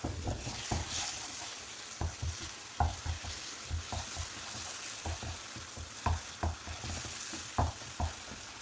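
A spoon scrapes and stirs thick banana halwa with cashews and pistachios in a pan, making soft repeated taps and scrapes at an uneven rhythm over a faint steady sizzle, close up with no talking.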